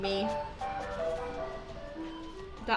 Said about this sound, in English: The ice cream truck is mocking me.